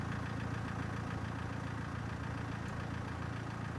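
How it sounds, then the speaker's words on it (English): A vehicle engine idles steadily in the video game Broken Sword: The Angel of Death, a continuous low rumble that holds even and moderately near throughout, with no talk over it. "I can hear an engine."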